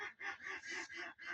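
Ducks on a crowded duck farm honk and quack in a loud, steady chorus, with a few brief dips between bursts of calling close to the listener.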